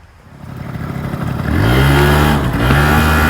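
A Yamaha Vino scooter engine builds from a low putter into a loud, close rev with rising and falling pitch as the rider pulls away.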